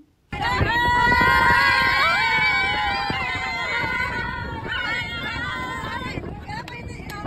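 A group of people sing and shout together with rising, wavering voices while riding in an open safari vehicle through the jungle, loud and close, with the vehicle's rumble and wind underneath.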